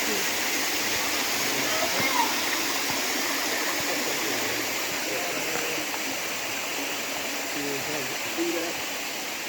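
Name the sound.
Honey Run Waterfall in Howard, Ohio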